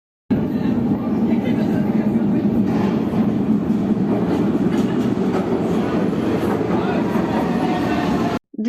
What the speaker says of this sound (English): The wind that foretells the arrival of the train, the ominous hum and roar of it incoming